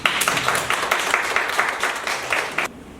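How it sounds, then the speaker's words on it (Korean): A church congregation claps together in a steady burst of applause after a call to celebrate a baptism, ending abruptly after about three seconds. "식사 후에 형주 축하를 박수 한번 드립니다."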